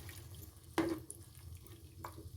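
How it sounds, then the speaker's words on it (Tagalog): Water poured into a pan of browned pork while cooking pork adobo, heard as a short splashing burst, then a brief second splash about a second later, over quiet kitchen background. "So pwede na po nating ilagay ang tubig. So ayan, lagyan lang natin ng konting tubig."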